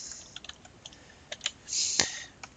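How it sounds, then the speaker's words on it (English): Someone types on a computer keyboard indoors, making scattered soft key clicks followed by a quicker burst and one sharp louder keystroke, close and fairly quiet with no talking. "Let me finish typing this out."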